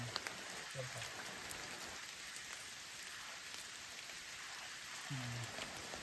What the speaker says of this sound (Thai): ฝนตกแรงฝนตกหนัก